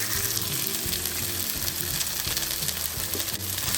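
Egg frying in a pan for vegetable egg fried rice, with onion, a steady close sizzle under rattling scrapes and clicks of stirring.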